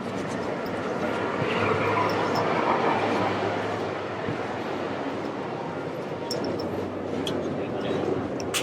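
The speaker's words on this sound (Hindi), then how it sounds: "ये मैगलेव ट्रेन है भाई, उड़ने वाली ट्रेन है।" A maglev train runs near an airport, giving a steady, continuous rushing rumble with a low hum throughout, while someone talks over it.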